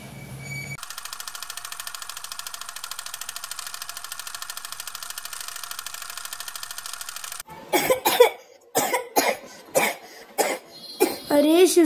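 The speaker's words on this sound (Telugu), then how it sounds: "నువ్వు ఇలాగే దగ్గుతూ ఉంటే నీ హెల్త్ పాడైపోతుంది." Coughing from a cartoon girl in a Telugu-dubbed Doraemon episode: a run of short, sharp coughs starting around the middle of the clip, following a steady buzzing background hum, with voices close by.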